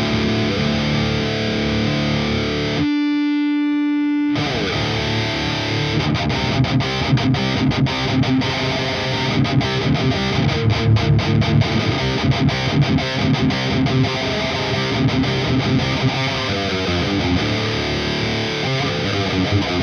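A heavily distorted electric guitar plays through a Marshall JVM amp, thick and saturated, after a brief silent break near the start, with no voices.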